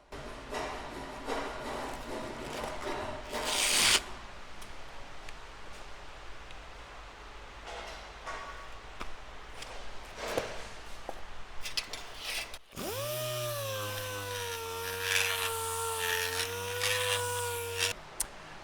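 A dual-action sander works guide coat on the bodywork of a chopped 1951 Ford, starting with rough, uneven scuffing and then settling into a loud, steady whirring drone near the end.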